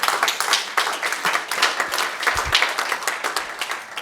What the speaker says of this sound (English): Please applause